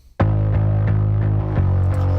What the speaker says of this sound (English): It's a distortion pedal and a fuzz pedal. Yeah, real crazy, but mixed in with the bass sound.